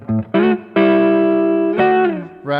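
Electric guitar playing BB King style blues sixths, a few short double-stop phrases with clear sustained tones, loud and close, alone without talk.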